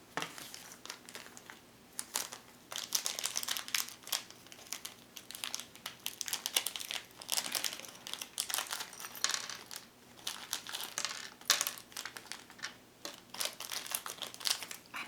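Paper crinkling and crumpling close up, in irregular soft bursts and rustles across a calm stretch, with light tapping mixed in and no talking.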